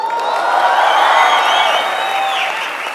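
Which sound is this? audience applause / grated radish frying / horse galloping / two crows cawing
audience applause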